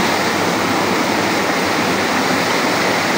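Continuous rushing river water, a dense, steady broadband wash with no pauses, close and fairly loud.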